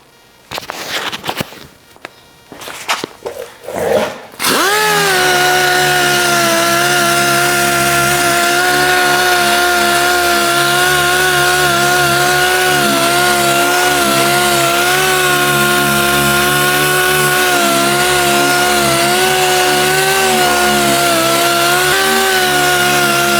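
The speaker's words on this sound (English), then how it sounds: "So I'm gonna sand that and see how it looks." Hardened body filler on a dented truck bed being sanded with a power sander, a few short bursts followed by a loud, continuous droning whine that holds steady for nearly twenty seconds, close by with no talk.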